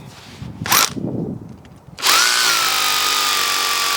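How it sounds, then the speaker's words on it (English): A short burst of a power drill, a pause with light handling, then the drill runs steadily and loudly for about two seconds before stopping abruptly, drilling holes for flood barrier side rails. "Before I drill it with the main drill bit."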